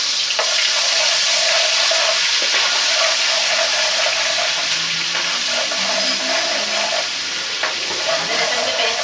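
Ginger garlic paste fries in hot oil with cumin for Hyderabadi chicken biryani, giving a loud, dense, continuous sizzle close up that surges slightly as the mixture is stirred throughout.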